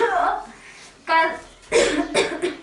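Several harsh coughs in bursts, a longer one followed by two more close together, loud and near with a breathy voice between.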